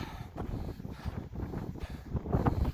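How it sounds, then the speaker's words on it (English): Strong winter wind buffeting a microphone above 12,000 feet on a Colorado mountain in February, a steady loud roaring rush with gusty surges and no talking. "But man, did it get a lot windier up here."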